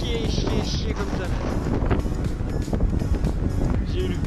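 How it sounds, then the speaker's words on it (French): Strong headwind roars across the microphone while cycling around the world, a loud continuous broadband buffeting that dominates throughout, with a voice partly audible underneath. "J'ai eu le pire vent que j'ai jamais eu."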